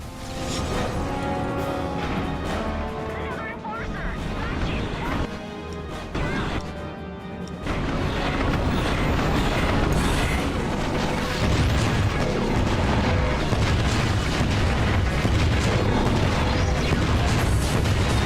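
An Omega Bomb detonates in the video game Ratchet & Clank, producing loud, dense crashing and booming blasts that run together in a sustained roar with no talking.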